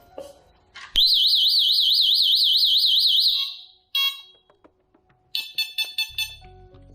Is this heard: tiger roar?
no